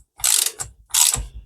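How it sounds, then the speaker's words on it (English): A socket ratchet tightens a motorcycle fork cap in two short, close, crisp clicking bursts with a brief pause between them. "Now if I get my socket, now I'm not going to do this mega tight."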